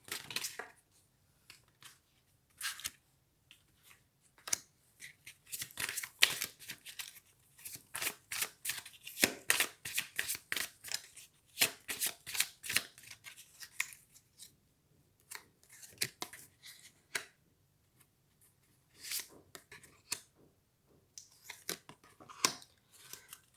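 Tarot cards being shuffled by hand in quick, crisp riffles and flicks, close and fairly loud, in clusters with brief pauses between, without any talking.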